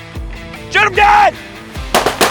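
Shotgun blasts aimed at waterfowl, a quick cluster of sharp, loud shots near the end that follow excited shouting from several men.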